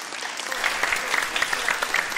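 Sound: audience applause

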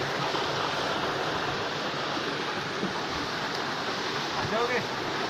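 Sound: small waterfall

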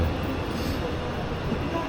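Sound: commuter train in Naples arriving at Mergellina

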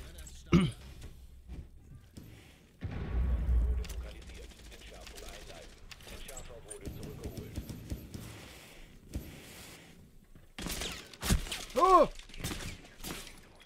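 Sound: gunfire in the video game Rainbow Six Siege

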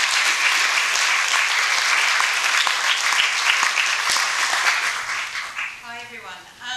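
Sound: audience applause welcoming a seminar speaker

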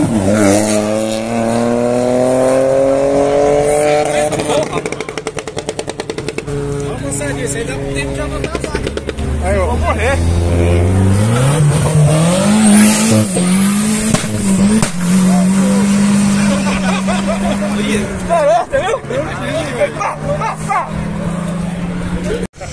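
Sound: car engine revving

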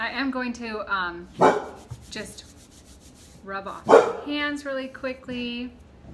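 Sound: dog barking

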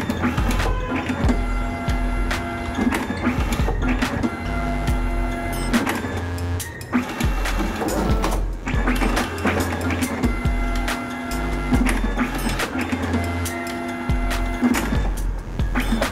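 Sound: Zebra ZXP Series 3 card printer printing

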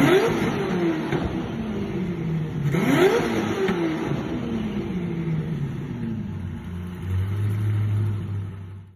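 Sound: 5.9 liter twin turbo V8 supercar engine revving

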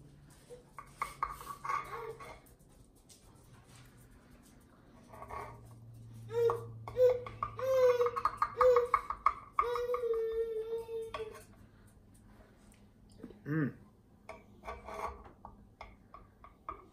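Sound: knife cutting into cornbread

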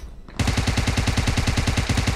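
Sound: gunfire in the video game PUBG Mobile

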